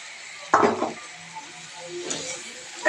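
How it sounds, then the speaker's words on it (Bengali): Noodles and tomato stirred in a cooking pan, with a utensil scraping and clinking against the metal in a couple of short strokes over a low background hum. "দিয়ে সুন্দর করে নাড়াচাড়া করে নিচ্ছে।"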